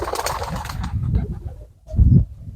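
Pigeons in a home dovecote with newly hatched young coo in low throaty bursts, close by, with a louder coo near the end and a faint rustle that could be wings.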